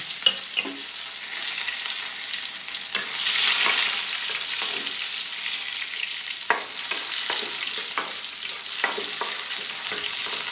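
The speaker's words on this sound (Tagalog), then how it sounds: "Init na mantika, lagay natin ng sibuyas." Chopped onion and garlic sizzle steadily in hot cooking oil, a bright continuous frying hiss that swells briefly as more goes into the pan, with scattered spoon scrapes and clicks against the pan.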